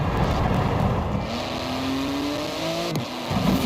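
A twin-turbo 3.8-litre flat-six sports car of about 700 horsepower, with a carbon-fibre body, revs hard in the Forza Horizon 4 racing game. The engine drone climbs steadily in pitch, briefly drops at a gear change, then picks back up loud and close.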